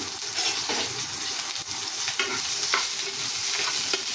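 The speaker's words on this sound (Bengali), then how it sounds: "এই যে পেঁয়াজ দিলাম, পেঁয়াজটা একটু ভাজা হতে না হতেই" Onions frying in soybean oil for an eggplant dal curry give a continuous close sizzle, broken by light stirring clicks, with no voices.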